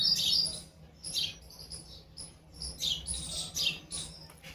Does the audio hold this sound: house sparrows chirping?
yes